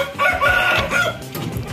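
A young Ayam Bangkok rooster on a farm crows loudly and close by in a single strained, wavering call lasting under two seconds.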